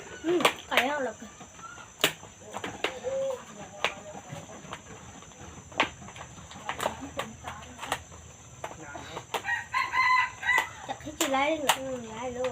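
A rooster crows and clucks a few times at moderate distance over a steady high whine of crickets, with people's voices and other outdoor sounds scattered throughout.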